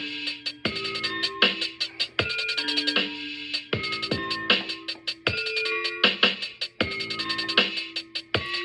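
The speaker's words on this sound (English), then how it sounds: "I want to make these hi-hats, I'm going to add an effect to them" Bright, metallic hi-hat hits repeat in a steady, busy beat pattern, ringing with a bell-like effect-processed tone over a low sustained bed.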